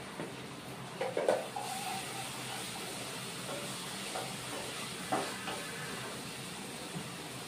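Green chilli paste added to fried potatoes in a pan for a no-onion, no-garlic vegetarian paneer curry, giving a soft steady sizzle with a few brief stirring clatters, fairly quiet and close, no talking.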